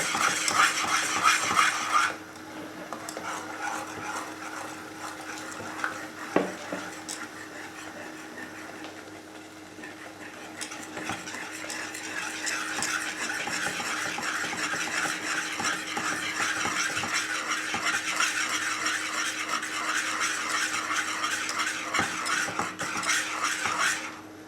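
A sauce for classic homemade lasagne whisked in a pan, a soft continuous scraping swish with faint metallic clinks, quiet and close, growing slightly busier in the second half.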